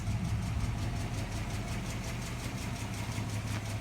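Steady idle from a classic American car with a 3-speed manual, its engine holding a low, even throb close by for several seconds, alone without talk.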